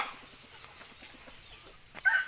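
Chickens cluck softly in short, scattered calls in the background, with a brief louder squawk near the end.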